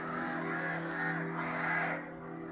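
Several crows caw nearby in Kerala, harsh repeated calls overlapping in a steady run for a couple of seconds before easing off, with no voices.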